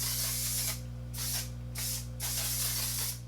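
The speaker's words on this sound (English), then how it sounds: "Put a little bit of my One Size setting spray on." One Size setting spray misted from a pump bottle in a makeup routine: several close, loud hissing spritzes in quick succession over a steady low hum.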